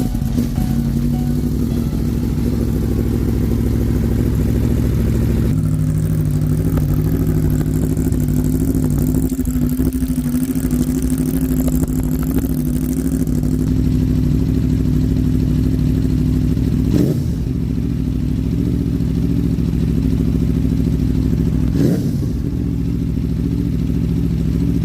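An Aprilia Tuono motorcycle engine runs steadily at a loud, close idle, with a deep, even rumble held for the whole stretch and a few brief blips and clatters, with no voices.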